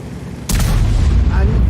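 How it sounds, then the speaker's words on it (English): An E100 tank in a video game fires its massive 15cm KwK gun: one sudden loud boom that rolls into a sustained low rumble, with faint voices under it. "And he fires his massive 15cm gun. It is a tank gun, a KWK."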